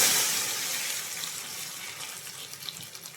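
Hot tempering poured into a freshly made mango curry gives a loud, bright sizzle that bursts at once and slowly fades to a softer crackling hiss.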